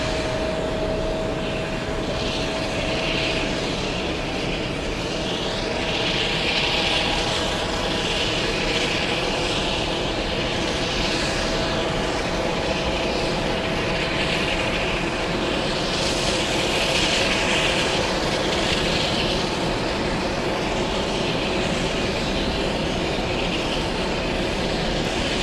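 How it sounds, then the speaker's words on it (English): A British Airways jet aircraft at JFK airport roars steadily and loudly for the whole stretch, a dense continuous engine rumble with a whining hiss and no break. "Let's go for Speedbird, flying in from London's Heathrow, Speedbird 117."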